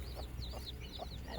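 Country hens cluck in a repeated series of short calls, about four in a second and a half, from close by and fairly quiet, with steady low background noise and no talk.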